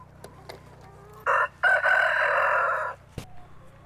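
Chickens in a backyard yard crow loudly in a long, near cock-a-doodle-doo, then clucks follow, with faint low hum beneath and quiet gaps before and after.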